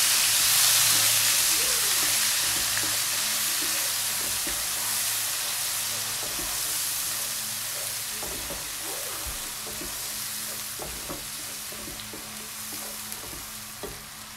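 Onions frying in hot oil with asafoetida give a steady, loud sizzle with bright hiss, broken by occasional stirring scrapes and clicks, with no voices throughout.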